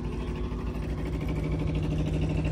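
A truck's reefer unit engine runs on at a steady idle in -20 degree cold with high wind, a continuous close drone with a low throbbing hum and no voices.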